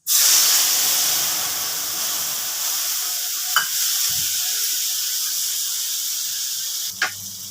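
Soaked spice paste hits hot oil with cloves and mace for a fish jhal, erupting in a loud hissing sizzle that slowly settles into a steady, softer fry with two brief utensil clinks.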